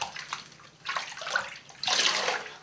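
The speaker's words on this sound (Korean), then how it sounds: "세면대에 물을 받아 주신 다음에 꼭 담가주세요." Lukewarm water running into a washbasin, a splashing, uneven stream that swells and fades before pouring more strongly near the end, close by and alone.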